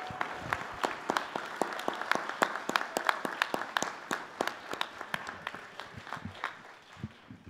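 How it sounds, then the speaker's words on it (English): Scattered, sparse clapping at the Oregon Tech 2023 graduation ceremony: distinct individual claps ring out close and sharp over a thin background murmur, thinning out toward the end. "I'd like to give a round of applause to our faculty"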